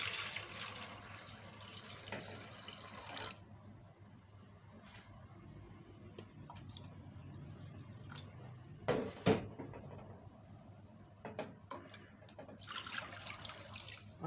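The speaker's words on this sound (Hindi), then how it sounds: "पानी को मैं गिराती जाऊंगी।" Water is poured off while rinsing cumin seeds in a strainer pot, with splashing bursts at the start and end and quieter trickles, drips and small clunks in between.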